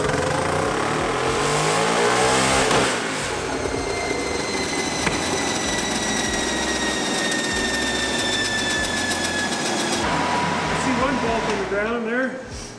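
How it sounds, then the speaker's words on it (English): A turbocharged lawn mower engine on a dyno runs at a loud, steady high-pitched whine as its revs climb to the rev limiter, then cuts out abruptly near the end. "we did a pull, it hit the rev limiter, and then it shut off"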